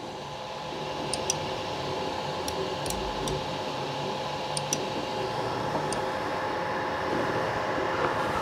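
Kingroon KP3S 3D printer running its homing routine, a steady mechanical drone of stepper motors with faint, brief ticks scattered through, quiet and continuous with no talking.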